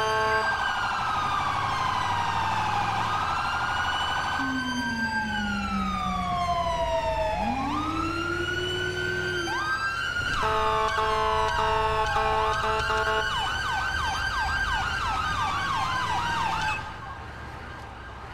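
Ambulance sirens in GTA 5 near the Zancudo area, several wailing and yelping tones overlapping and sweeping up and down continuously for most of the stretch, loud and close, with road traffic underneath before cutting off near the end.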